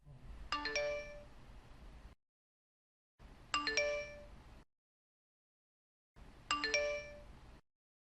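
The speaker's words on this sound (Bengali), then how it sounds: "এত কলিং বেল দিচ্ছি" Electronic doorbell chiming three times in a repeating pattern, each bright multi-tone ring a couple of seconds long separated by brief silences, close and clear with no talk.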